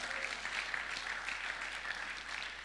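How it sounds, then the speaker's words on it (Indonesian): Congregation applause during a church service, a brief steady wash of many hands clapping at moderate volume with no voices over it. "Tepuk tangan dulu bagi Allahmu yang luar biasa."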